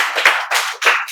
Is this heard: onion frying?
no